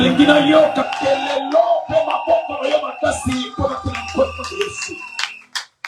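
Church congregation at a Sunday service shouting, whooping and clapping in praise, a lively mass of voices and hand claps over several seconds that tails off near the end.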